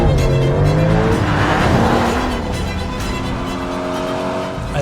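A Porsche 911 Turbo S driven hard on a road, its engine roaring loud and close throughout with rising and falling revs as it accelerates, with no one talking.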